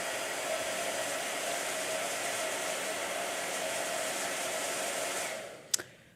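Steady whooshing roar of a blow dryer running close by for several seconds, broad and even, then cutting off with a click near the end.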